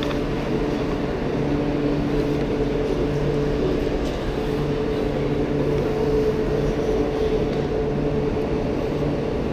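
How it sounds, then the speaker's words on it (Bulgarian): A double-decker sleeper express train standing at a station in Russia, heard as a steady, loud low rumble with a constant mechanical hum throughout and no clear speech. "Това е нашия бързия влак, на който трябва да се качваме след малко."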